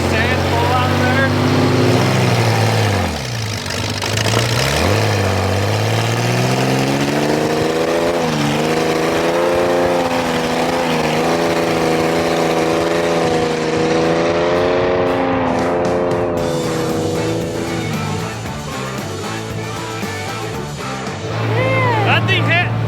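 A 1960s racing engine in a Baja 1000 race car starts up and revs, a loud close roar with pitch swinging up and down as the throttle is worked, then settling to a rough idle, with people talking nearby.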